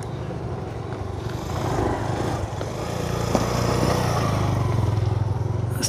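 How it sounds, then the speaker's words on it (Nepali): A motorbike engine drones on a road beside a bridge construction site, rising as it draws nearer and grows louder toward the end, with steady background noise. "उतादेखि बाइक आएको छ"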